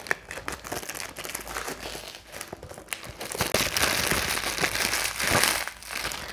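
Plastic and paper packaging crinkles and crackles nonstop as a Khadlaj fragrance box is unwrapped up close, dense rustling with sharper crunchy bursts and no talking.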